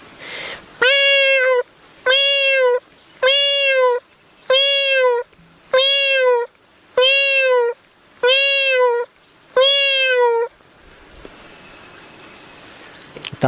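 A man imitates a cat's meow loudly and close, eight evenly spaced drawn-out meows of similar length in steady rhythm, followed by a quiet pause.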